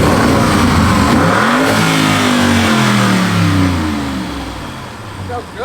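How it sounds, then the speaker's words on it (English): Audi RS6 Avant with a downpipe and tune and its rev limiter removed, its engine revving loud and close, climbing and falling through several throttle blips before easing back toward idle. "they removed the stupid limiter so you can actually rev it now"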